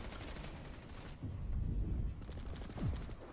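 Rapid bursts of gunfire and grenade blasts in a multiplayer video game battle, sharp cracks rattling back and forth with deeper booming explosions around the middle and end, no talk over them.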